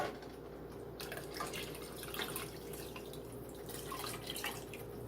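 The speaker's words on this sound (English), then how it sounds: "add the rest of the beef broth in there." Beef broth is poured into a pot of hamburger vegetable soup, a soft continuous trickle and splash of liquid heard close up and fairly quiet, with no speech.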